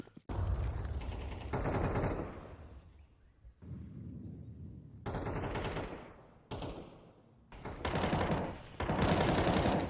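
Bursts of AK rifle fire in a Counter-Strike 2 esports match, several loud rapid automatic volleys separated by short quiet gaps, close and dense.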